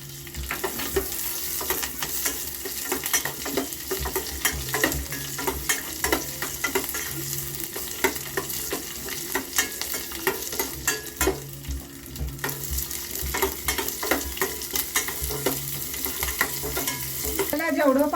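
Steady sizzling of curry leaves and green chillies frying in hot oil for a dhokla tempering, with frequent stirring scrapes and clinks of a spoon against the pan.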